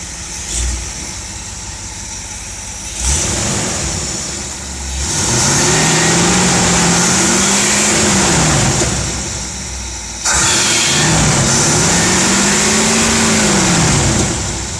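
A 1970s Dodge 318 V8 fitted with a Pertronix ignitor runs close by, settling into a rough idle and then revving up twice in long swells that fall back, loud and without talk.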